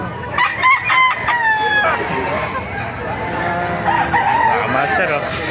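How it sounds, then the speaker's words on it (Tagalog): Several roosters crowing nearby at a chicken market in Baliuag, Philippines, overlapping calls rising and falling, with people chattering in the background. "Ayan o, dami manok ngayon dito."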